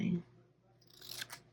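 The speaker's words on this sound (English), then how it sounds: "Let's do some trimming on this guy." Scissors trim paper for a weekly planner spread, one or two brief crisp snips heard faintly after a moment of talking.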